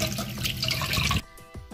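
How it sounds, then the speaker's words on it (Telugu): Water runs and splashes while homemade paneer is rinsed, a brief burst of pouring that stops abruptly and leaves a few faint drips. "ఇప్పుడు దీన్ని నార్మల్ వాటర్ తో శుభ్రంగా కడిగి పెట్టుకుందామండి"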